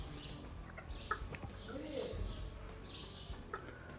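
Chickens clucking and cooing softly outdoors, several birds close by with scattered calls and a few sharper clucks.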